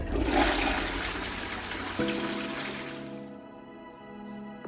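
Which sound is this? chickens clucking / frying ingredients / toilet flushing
toilet flushing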